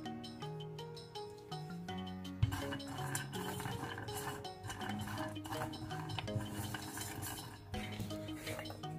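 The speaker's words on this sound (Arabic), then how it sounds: "بدي شوية جوز عين الجمل، بدي احمصهم بدون زيت طبعا" Walnuts toasted dry in a pan, with clinking, stirring and scraping of the pan over a steady wash of background music for the whole stretch.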